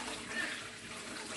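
Settled water poured off a pot of millet pap (Nigerian akamu or ogi) makes a steady, soft, close trickling splash that runs throughout with no talking over it.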